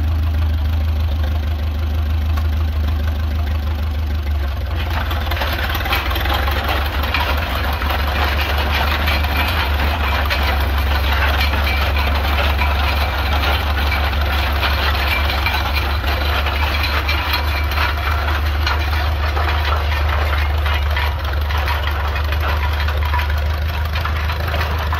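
A 1920 Allis Chalmers 6-12 tractor engine is started and runs steadily, a loud, continuous low rumble with a knocking, vibrating character that holds for the rest of the recording.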